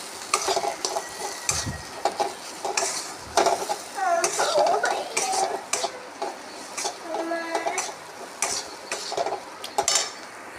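Spices are stirred in a pan while goat meat cooks, with repeated scraping strokes of a spoon against the pot and faint sizzling between them, close and uneven in rhythm.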